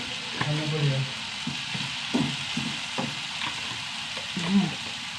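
Spices including fenugreek frying in hot oil in a pan, a soft steady sizzle with intermittent scraping and stirring knocks, close and moderately quiet.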